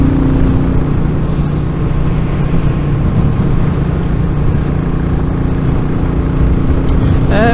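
A Royal Enfield Classic 350 motorcycle on the move near Dunsop Bridge in the Trough of Bowland gives a steady low engine drone, largely buried under loud, continuous wind buffeting.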